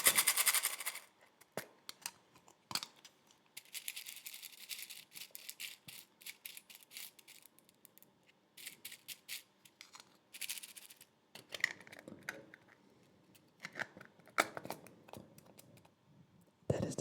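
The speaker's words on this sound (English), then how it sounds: "That is the sound of needles or sewing pins." Needles or sewing pins are handled up close, giving soft scattered metallic clicks, rattles and jingles in quiet bursts with pauses between them.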